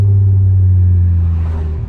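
A Toyota Supra mk4 engine warming up after a brake booster replacement: a close, steady low idle drone with a constant pitch that holds for two seconds and then dips slightly at the end.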